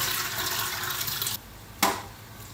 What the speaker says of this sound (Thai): พอเราแช่น้ำครบนะคะ ประมาณสัก 15 นาทีแล้วเราก็กรองน้ำออกเลย